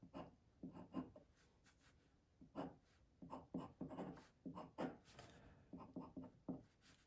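Pen on paper while a chemistry reaction mechanism is drawn by hand: soft, close, quiet scratches in short irregular bursts and strokes with brief pauses, no voices.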